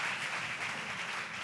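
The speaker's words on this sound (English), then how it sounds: "A big round of applause, please." Audience applause at a public discussion, a steady wash of many hands clapping at moderate distance, sustained and even throughout with no voices over it.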